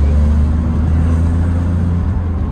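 Smart Fortwo Brabus with a single-clutch gearbox, its deep, loud engine hum holding steady before a slight dip as the gear changes.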